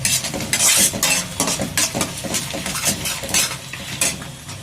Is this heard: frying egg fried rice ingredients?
yes